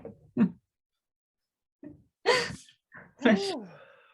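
A sharp sneeze bursts out close by, followed by another, with short breaths and brief vocal sounds around them.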